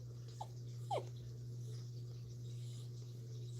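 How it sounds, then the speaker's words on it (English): A dog whines in two short, high, rising whimpers early on, faint against a steady low electrical hum in a quiet indoor room. "You can hear him whining right now because he wants to sit in my lap while I'm working"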